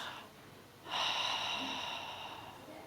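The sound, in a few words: exhaling during a Pilates exercise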